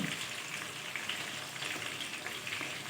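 Prawns fry on a tawa pan, a continuous dense crackle and bubbling sizzle at moderate level, steady throughout with no voices.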